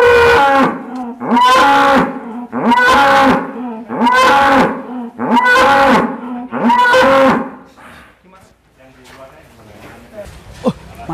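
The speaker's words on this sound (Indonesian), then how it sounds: "hati-hati Mas, ngeluarin sapi hitam" A black cow moos loudly and repeatedly as it is led out of its farm pen, about six long, drawn-out calls in steady succession, followed by quieter farmyard noise.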